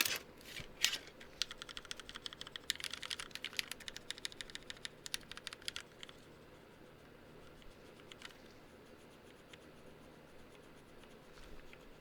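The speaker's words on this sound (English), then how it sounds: "I'll give you guys a quick typing test though." Rapid clacking keystrokes on a newly built mechanical keyboard with fresh springs, close and crisp for about six seconds, then fading to sparse faint taps.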